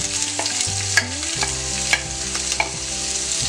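Thinly sliced shallots sizzle in hot oil in a pan for a Kerala fish pollichathu, a steady close frying hiss broken by a few spatula scrapes and stirs, loud with no talking.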